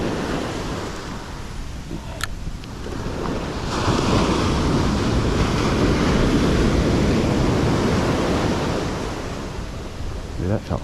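Sea waves wash and surge steadily in a harbor, loud and close with heavy wind buffeting the microphone, swelling in the middle and easing off toward the end.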